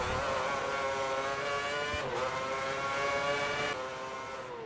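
A Formula 1 car engine in the F1 2010 video game screams at high pitch, holding a steady rising whine with a brief dip as it shifts gear, loud and continuous without speech.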